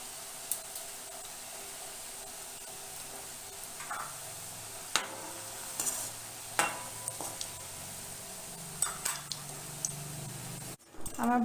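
Gulab jamun fry gently in oil over a low flame. A faint, continuous sizzle is broken by occasional soft clicks and stirring taps close by.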